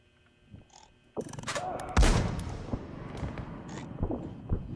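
A loud burst of gunfire from the video game R.E.P.O. erupts after a quiet start, followed by a sustained rattle of shots and explosive noise, dense and close.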